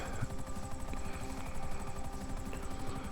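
A helicopter flies over a city in a video game, its rotor chop running steady and fairly loud through the whole stretch beneath a constant engine whine, with no one talking.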